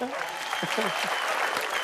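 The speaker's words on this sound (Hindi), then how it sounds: "इनके लिए भी जोरदार तालियां।" Brief burst of studio audience applause on a comedy show set, a dense clapping wash with voices calling out over it.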